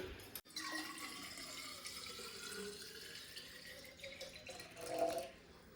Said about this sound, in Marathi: पाणी भरून घेऊन जा या बॉटलमध्ये